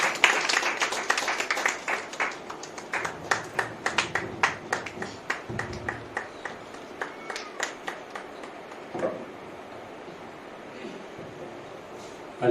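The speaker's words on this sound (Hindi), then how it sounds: "आप सब जोरदार से तालियां बजाइए" Congregation applause at a Christian church conference in Goa, a crowd of clapping hands with sharp individual claps standing out, steady through most of the stretch and thinning toward the end.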